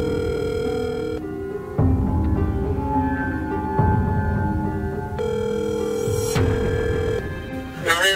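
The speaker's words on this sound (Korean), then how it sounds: "어디론가 전화를 거는데요" A telephone call goes out with a repeated electronic ringback tone, several tonal rings separated by short gaps, loud and clear with no talking over it.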